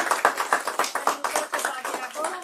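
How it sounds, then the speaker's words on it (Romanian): Audience applause at a fundraising campaign event for children with disabilities: a steady run of close, crisp handclaps in a quick, even rhythm, lasting a couple of seconds. "Aplauze pentru ea!"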